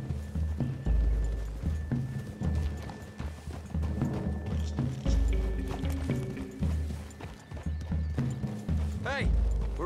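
Horse hooves clip-clop in a steady rhythm alongside game music and ambient effects in Red Dead Redemption 2, with a voice talking over part of it.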